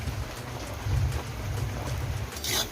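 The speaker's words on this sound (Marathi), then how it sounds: "पाऊस किती पडत आहे तो पहा" Heavy rain pours steadily with a deep rumbling undertone, constant and close, with no one speaking.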